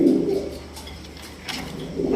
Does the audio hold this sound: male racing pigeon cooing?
yes